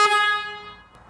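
The horn of a Genuine Buddy 170 scooter gives one quick, bright beep that is strong at first and then rings away over about a second.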